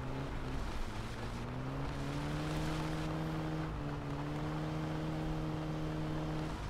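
A BMW E30 engine driving in the video game My Summer Car, a steady droning hum with a harmonic pitch that holds fairly constant, dips slightly mid-way, and continues loud throughout.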